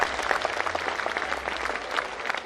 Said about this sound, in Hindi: ताली बजा के स्वागत करते हैं